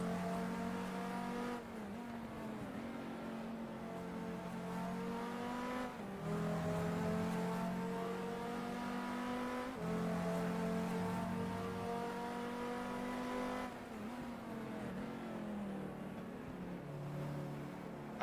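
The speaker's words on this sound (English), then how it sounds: "I'm still not bored of this engine sound. Engine sound is glorious." Race car engine in the GTR2 video game at Spa, a steady revving drone rising through gears with clear shift steps, heard at moderate level with no talking.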